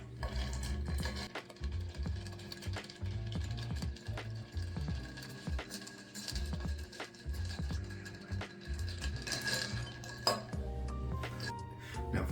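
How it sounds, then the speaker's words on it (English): A cocktail being stirred with ice in a mixing glass, steady repeated clinks and rattles of ice against glass running throughout, fairly close and continuous with no talking. "Now we're going to stir for 20 to 30 seconds to chill and dilute."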